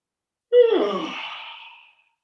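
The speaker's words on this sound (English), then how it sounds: "turn your head over to one side and yawn" A single long yawn from a person lying with head turned to one side, opening with a brief voiced onset and trailing off into a soft breathy exhale over about one and a half seconds, alone in quiet.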